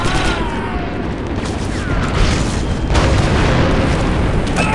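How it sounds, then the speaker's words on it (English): A heavy demolition charge blast in the Star Wars Republic Commando shooter, a loud sustained booming roar with rumbling debris that fills the whole stretch without pause. "The charge is set and ready to detonate."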